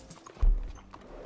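In the video game Red Dead Redemption, a single heavy horse hoof thud lands mid-clip, with softer clopping sounds around it, close by.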